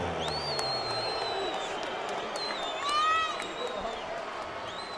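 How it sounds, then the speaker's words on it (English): Boxing arena crowd after a professional fight decision, a broad steady roar of cheering and applause under an announcer's amplified voice, swelling briefly midway. "How about a round of applause for the young man from Sydney, Australia?"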